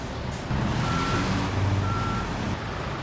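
Truck reversing beeps in Construction Simulator 2022: a steady, evenly spaced electronic beeping over a low rumbling diesel engine, the vehicle backing up at close range with no talk.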